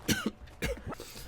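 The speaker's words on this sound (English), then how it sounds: "Sorry, I hate coughing on camera." Two separate coughs, close and fairly loud, the second a longer double hack, with quiet gaps between and no talking.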